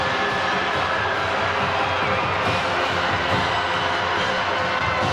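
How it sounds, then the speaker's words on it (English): A high school football crowd roars and cheers after a Broncos touchdown in a Zachary versus Catholic game, a steady, dense wash of distant shouting and whooping that holds at full level throughout. "Broncos fans with a lot to cheer about here at the start of the second"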